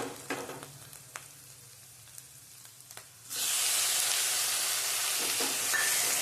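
Onions and tomatoes fry in a pan, starting with scattered clinks and quiet crackles, then a loud, steady sizzle takes over for the second half.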